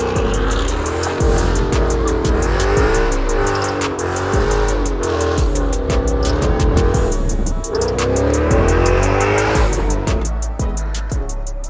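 A 2016 Ford Mustang with the 5.0 V8 revs loud and close, its engine note rising and falling in repeated surges over a steady throaty drone, with no one talking.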